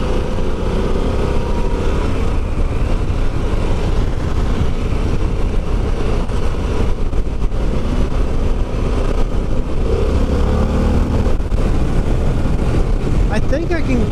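A Harley-Davidson Pan American motorcycle engine pulls hard under acceleration, a loud, continuous low roar mixed with rushing wind noise throughout, heard up close from the rider's position with a voice talking over it.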